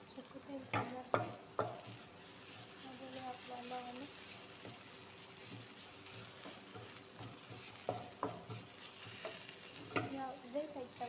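Garlic frying in a dry pan without added oil, a soft continuous sizzle broken by sharp clacks and scrapes of stirring, with a voice talking intermittently over it.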